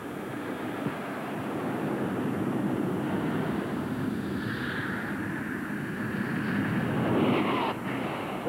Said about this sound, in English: when the jet cars take off, they start slow at first because they don't have that torque that a piston engine-driven car will have